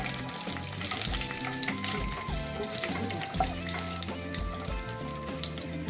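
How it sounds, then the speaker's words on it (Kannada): Cumin seeds and a couple of bay leaves crackle in oil over a low flame for paneer masala. Busy music plays over the sizzle, which stays moderate and continuous throughout with light stirring. "ಒಂದು ಸ್ವಲ್ಪ ಜೀರಿಗೆ, ಸೊ ಇದನ್ನು ಚೆನ್ನಾಗಿ ಫ್ರೈ ಮಾಡೋಣ"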